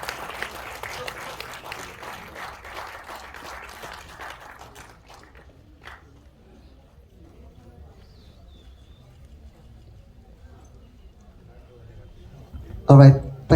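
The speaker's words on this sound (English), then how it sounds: "can I have a huge round of applause for the entire team of Jigarthanda Double X," Audience applause at a film screening for the team of Jigarthanda Double X at the 55th IFFI 2024, steady for several seconds, then fading to a quiet room before a sharp loud burst at the very end.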